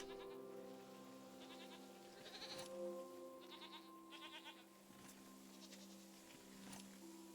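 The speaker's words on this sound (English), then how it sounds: "Look at all these goats." Several goats bleat in a valley farm setting, their calls rising in short bursts over a faint, steady background hum; the animals sound fairly distant and the overall level stays soft.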